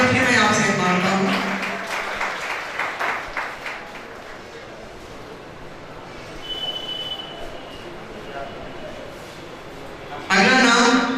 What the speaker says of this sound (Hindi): तालियां एक बार फिर मैं आपसे मांगता हूं